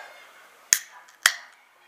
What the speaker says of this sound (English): let's open it up.